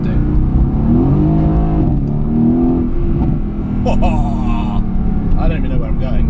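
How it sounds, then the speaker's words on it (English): A Mercedes-AMG GT S engine blips and revs as it downshifts, the rising engine note coming in bursts under talk from people inside the car. "Just downshifting."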